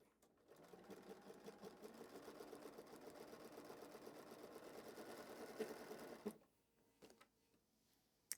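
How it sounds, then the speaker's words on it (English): A sewing machine stitches a quilt binding seam in a steady, fast mechanical whir for about six seconds, then stops, followed by a few quiet clicks and a small thump. "I'm going to sew from point to point of that seam where they intersect and cross over each other."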